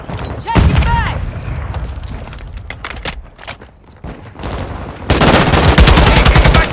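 Heavy automatic gunfire and explosive booms in Call of Duty MW2 during invasion combat, firing in rapid loud bursts, with a sharp whining effect early on and shouted voices mixed in.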